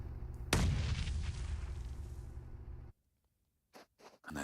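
A grenade bursts during a PUBG Mobile esports match: one loud, close blast with a long rumbling decay that cuts off abruptly, followed by a few brief scuffing noises.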